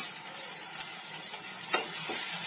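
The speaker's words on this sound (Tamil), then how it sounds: "இதையும் சேர்த்து கொஞ்சம் நல்லா வதக்கி விடலாம் வெண்டைக்காய் வந்து ஒரு ரெண்டு நிமிஷம் எண்ணெயில் வதங்கினாலே போதும்" Okra, about 150 grams cut into small pieces, sautéing in oil for tamarind curry: a steady soft sizzle with a few brief stirring scrapes, close and alone without speech.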